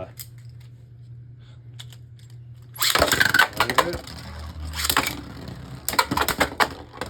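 Beyblade Burst spinning tops, Hasbro and TT Bushin Ashura/Ashindra, clash in a stadium after a low hum, with bursts of sharp metallic-plastic hits and scraping in several quick clusters, fairly close and loud.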